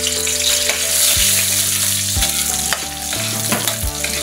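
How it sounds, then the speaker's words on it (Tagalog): Chopped garlic sautéing in hot oil in a heated pan gives a loud, steady sizzle, joined by repeated metallic scraping and clanking as it is stirred, with background music. "Gisa na tayo ng bawang."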